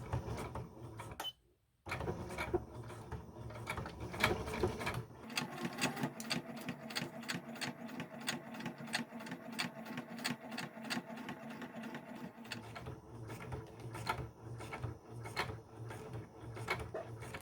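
A sewing machine stitching the seam of a fabric sandwich pouch, a close, continuous rapid mechanical chatter with a brief pause near the start and slight shifts in pace.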